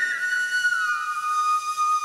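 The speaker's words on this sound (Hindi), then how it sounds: "ब्रह्म बंसी ध्वनि" A bamboo bansuri flute holds a clear, breathy sustained note that glides slightly downward, heard alone and steady.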